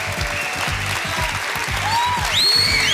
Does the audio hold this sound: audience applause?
yes